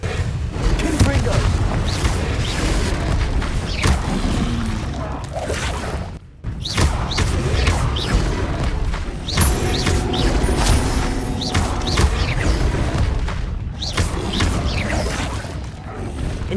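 Repeated booming blasts and whooshing impacts from Confringo spells in the video game Hogwarts Legacy, loud and continuous over a dense battle mix with a brief lull midway.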